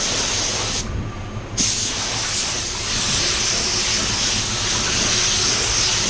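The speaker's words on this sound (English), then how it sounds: "you're trying to spray a car?" A spray gun painting a car in a body shop, a loud steady hiss that cuts out briefly, then resumes and continues strongly to the end.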